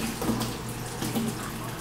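Tap water running at a kitchen sink while dishes, a spoon and a fork, are rinsed, a steady close splashing stream with small shifts as items pass under it, no talking over it.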